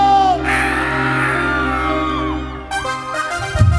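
A crowd of girls at a lively Spanish-language concert lets out a long, loud sustained shout over steady music, which breaks into scattered cheers near the end.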